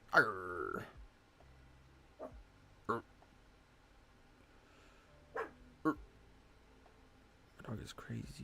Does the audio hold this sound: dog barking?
yes